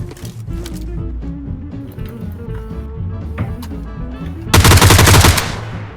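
Machine gun fire in the video game PUBG: a loud, dense burst of rapid automatic shots near the end, over steady low game background sound.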